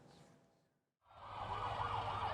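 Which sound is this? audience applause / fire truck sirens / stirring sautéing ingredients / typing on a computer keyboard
fire truck sirens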